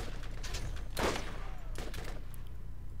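Gunfire in the Borderlands video game, with a loud burst of shots near the one-second mark over a steady bed of game noise and scattered later shots.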